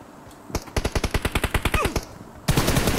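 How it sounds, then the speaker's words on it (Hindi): Rapid automatic gunfire in PUBG, a steady burst of about fifteen sharp, evenly spaced shots lasting around two seconds, followed by a louder blast of noise at the end; no talking over it. "यार, उधर से वो फायर दे रहे हैं।"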